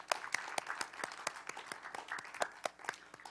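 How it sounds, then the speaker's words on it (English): A small audience at a forum round table with foreign ambassadors in Korea gives a quiet, distant round of applause. The claps are sparse and individually distinct, coming in an uneven rhythm. "why don't we give them another big round of applause, everyone?"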